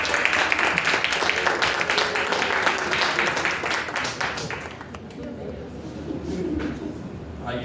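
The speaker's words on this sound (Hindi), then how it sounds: "हम क्यों ना जोरदार तालियों से पास्टर अतुल जी का स्वागत करें" A church congregation at a Hindi Sunday service claps loudly to welcome a pastor, a dense continuous wash of applause that thins slightly toward the end, with a voice mixed in.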